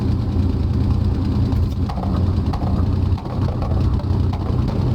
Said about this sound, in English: And you can hear the engine there with that change in the ignition timing, coughing and spluttering a little bit.